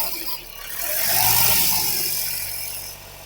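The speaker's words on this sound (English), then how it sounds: "I'm going to press the RPM 2000." A Kia Rio engine with a DPF low-pressure fault held at a steady 2000 RPM, a mid-pitched hum that rises into a fuller whirring roar midway and then eases slightly, heard close.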